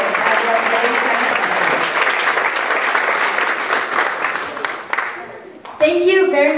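Audience applause at a youth short film premiere: steady, loud dense clapping for about five seconds that fades, followed by a brief voice at the end.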